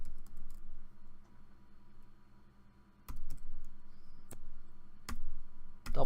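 Typing on a computer keyboard while entering a spreadsheet formula, close soft key taps in short bursts with brief pauses and a few sharper clicks, with no talk over it.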